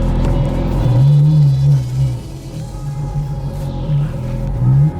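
A Ferrari engine idles with a deep, steady rumble, then is blipped in a couple of short revs that swell and fall back, loud and close in an enclosed detailing bay.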